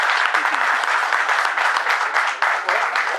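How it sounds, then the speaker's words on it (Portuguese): An audience at a MagLev lecture at SEAERJ in Rio bursts into loud, continuous applause, a dense even wash of clapping that holds strong from start to finish with no voices over it. "Agradeço as palmas"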